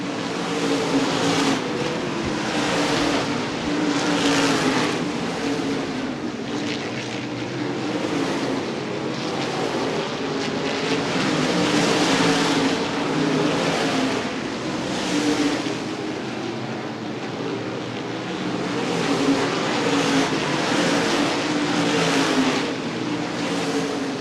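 Modified stock cars roar past the start-finish line in a continuous loud pack, engines surging and fading in overlapping waves as one underpowered car trails off the pace at the Winchester World Stock Car Festival 50.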